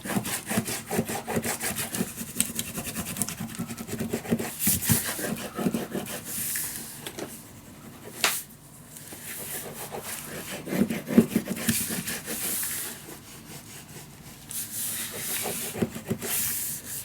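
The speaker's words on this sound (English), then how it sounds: "Burnish it down." Paper being burnished down by hand onto a mini scrapbook album, a series of soft, close rubbing and scraping strokes in irregular bursts, with occasional faint handling noises in between.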